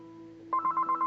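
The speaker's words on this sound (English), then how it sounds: "And of course my phone's gonna ring." A telephone rings indoors, a quiet steady tone giving way to a louder pulsing electronic ring that repeats in quick even bursts, close by with no talking.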